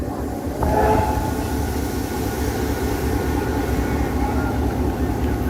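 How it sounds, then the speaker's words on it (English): A train rumbles steadily through the Newport rail workshops during an open day, a continuous low rolling roar with a brief squeal near the start, fairly close and with no talk. "Let's not get in the path of that train though."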